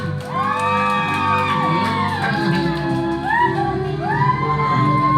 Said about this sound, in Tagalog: palakpak naman dyan na may halong sigawan